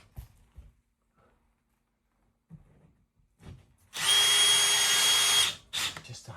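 A power drill drives screws while something is fitted into place in a farmhouse loft: one loud, close whirring burst of about a second and a half, set among quiet handling knocks and shuffles.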